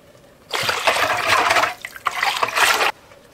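Liquid poured into a pot of creamy tomato soup, a close, loud splashing pour lasting about two seconds, briefly easing off and then resuming before stopping.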